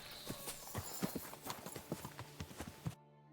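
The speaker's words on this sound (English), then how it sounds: "What a beautiful horse." A horse's hooves clip-clop in a steady walking rhythm, close and clear, in the video game Kingdom Come: Deliverance II, ending abruptly after about three seconds.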